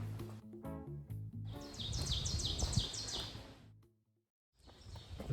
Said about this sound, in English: Dawn chorus.